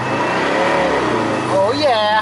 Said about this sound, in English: We get to see how high we're revving it.